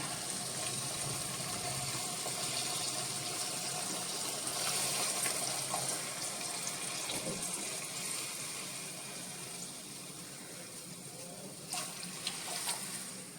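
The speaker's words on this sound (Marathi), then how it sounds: "आणि आता याच्यामध्ये आपला 1 वाटी रवा आहे तर 3 वाट्या पाणी मी याच्यामध्ये घालतोय" Three cups of water are poured into a pan of semolina and tomato puree for tomato upma, a soft continuous trickling and gushing that runs steadily at low volume, with a few light clinks near the end.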